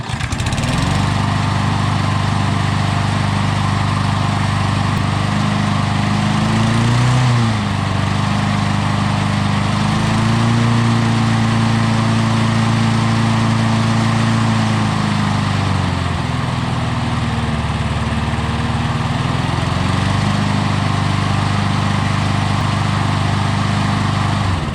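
A Briggs & Stratton lawn mower engine runs steadily and loudly up close, its pitch rising and falling through several distinct revs over a continuous drone, with no talking.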